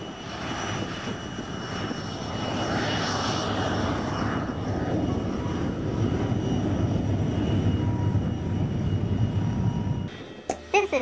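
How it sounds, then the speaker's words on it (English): A T-33 Shooting Star jet aircraft roars steadily and loudly for about ten seconds with a continuous broadband engine rush, then cuts off abruptly into brief clatter. "This is the T-33 Shooting Star."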